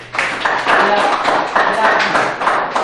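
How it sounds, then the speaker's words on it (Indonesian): A group bursts into applause, brisk clapping sustained for a few seconds with some voices mixed in. "Kita tepuk tangan untuk kelompok 3 dulu."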